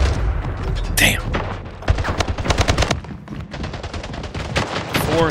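Rapid gunfire in the shooter game Splitgate, repeated bursts of close, loud shots in quick rhythmic volleys across the whole stretch, with a couple of sharper blasts in between.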